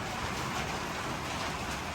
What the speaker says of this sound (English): Waiting out the wind and the rain and possible tornadoes here.